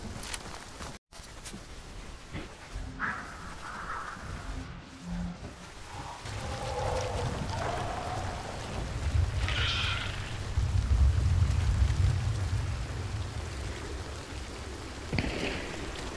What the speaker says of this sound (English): the heavy rain just started